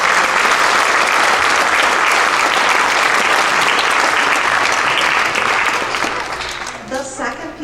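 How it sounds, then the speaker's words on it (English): Audience applause fills a school holiday band concert hall, a dense, steady clatter of many hands that holds loud for about six seconds, then thins and fades as scattered claps trail off. "Could you give them another round of applause?"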